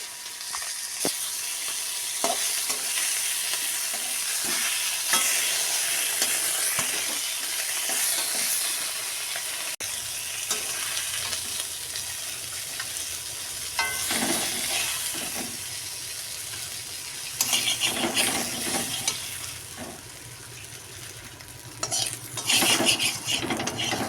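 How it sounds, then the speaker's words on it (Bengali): Lote (Bombay duck) fish fry in oil in a pan with a soft continuous sizzle under frequent clinks and scrapes of a metal utensil against the cookware. The stirring grows louder in bursts toward the end, and nobody speaks. "এই যে মাছটা ভাজা হচ্ছে"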